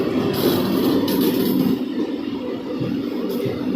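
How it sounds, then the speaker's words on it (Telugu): Saffron-liveried mini Vande Bharat, an eight-coach push-pull train, rumbles steadily at Rajahmundry railway station, a continuous loud low mechanical roar with faint rail clatter and brief hissing bursts, no voices. "ఇక్కడ సాఫ్రాన్ వందే భారత్. ఇది మినీ వందే భారత్ అండి."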